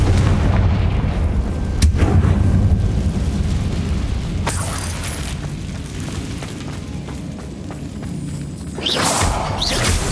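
Confringo fire-spell blasts in the video game Hogwarts Legacy land as heavy, rumbling booms. Sharp bursts hit at intervals over a continuous low roar of combat, with no talking.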